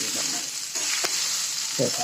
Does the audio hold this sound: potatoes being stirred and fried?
yes